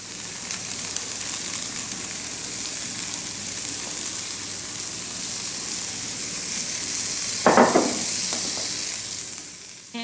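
Takoyaki batter sizzling loudly and continuously in a takoyaki pan as tempura bits and onion go on top, a dense even frying hiss with a brief rustling scatter of added ingredients near the end.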